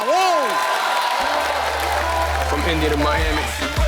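A TV comedy show studio audience applauds to welcome a singer, a dense, loud wash of clapping and crowd noise throughout, with a host's voice and music-like tones layered on top.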